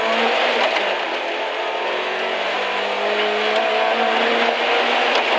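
A BMW rally car launches hard from a stage start on a Polish rally special stage, its engine revving loud and steady close by as it accelerates without a break.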